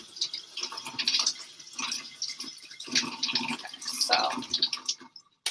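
A cucumber is washed under a running tap at a kitchen sink, with water splashing and gurgling at close range for several seconds. The water stops abruptly near the end, and a single word is spoken.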